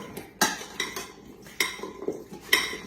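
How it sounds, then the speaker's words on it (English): A metal utensil scrapes and clinks against a pan while stirring seasoned roasted vegetables, including butternut squash, to coat them, giving several sharp, irregular clacks over quiet scraping. "So again, I'm going to stir this so it's all well coated."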